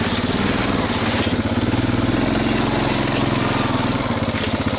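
A Honda four-wheeler ATV engine runs outdoors, loud and close, with a continuous buzzing drone and a fast pulsing throb throughout.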